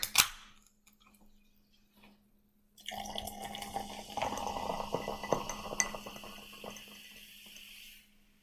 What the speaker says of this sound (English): a glass of ice in which to pour the Canada Dry